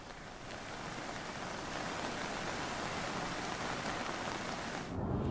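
Torrential monsoon rain pours down steadily during flooding in Himachal Pradesh near Kullu and the Beas River, a loud, continuous dense hiss of drops that swells slightly toward the end.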